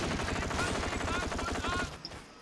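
Rapid machine-gun bursts in the video game Far East War, a fast, steady rattle of shots that runs loud for about two seconds before breaking off into a faint tail.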